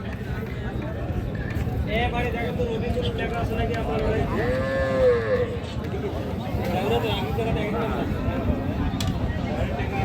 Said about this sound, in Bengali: গাভী আর সঙ্গে বকনা বাছুর